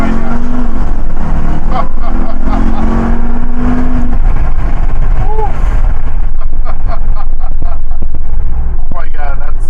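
A 2021 Ram TRX pickup with a 702-horsepower engine launches hard under launch control, its loud, sustained roar building steadily as excited voices talk and exclaim over it.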